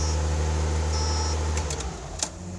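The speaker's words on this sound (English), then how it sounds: "we're taking out the Datsun for a test drive" A 1976 Datsun 280Z out on a test drive, its engine a steady low hum heard from inside the car, with a few brief clicks and rattles near the end.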